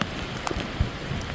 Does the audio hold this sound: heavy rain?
yes